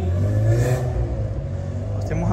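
A car engine revs nearby on a street in Gramado, a steady loud motor drone with rising pitch, heard outdoors from an apartment balcony.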